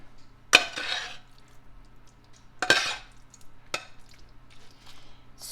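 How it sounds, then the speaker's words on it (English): Cheese being stirred into pasta for a freezer meal, with three separate scraping, clinking spoon strokes against the dish spaced a couple of seconds apart, close and fairly quiet. "So I'm just gonna kind of get that in and mix it in a little bit."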